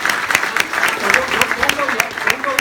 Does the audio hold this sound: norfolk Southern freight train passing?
no